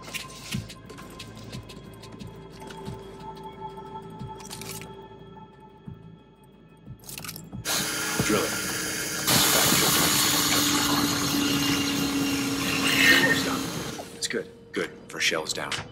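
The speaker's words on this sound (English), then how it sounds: "Drill here." A hydraulic seal being drilled during a Call of Duty Ghosts campaign mission, a loud, steady broadband whir that starts abruptly and runs for several seconds, with game dialogue and effects around it.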